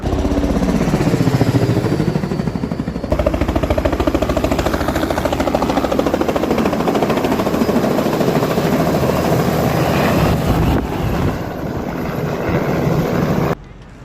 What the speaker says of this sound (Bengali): BSL অ্যাভিয়েশনের helicopter ride